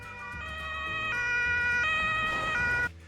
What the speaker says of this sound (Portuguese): Sirene de ambulância.